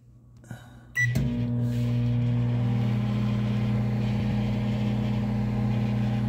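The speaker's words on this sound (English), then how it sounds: "Here's my English muffin going into the microwave." A microwave oven heating an English muffin: a clunk of the door or start button, then a steady loud electronic hum with a low mechanical drone that continues evenly throughout.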